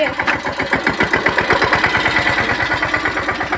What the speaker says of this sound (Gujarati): હાંકવાનું ચાલુ થઈ ગયું છે નીચે મિની ટ્રેક્ટર મગફળીમાં